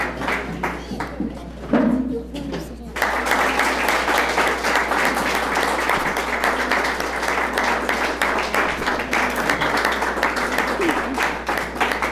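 A few scattered claps and thumps at first, then a large studio audience at a televised quiz match breaks into sustained, dense applause that continues to the end.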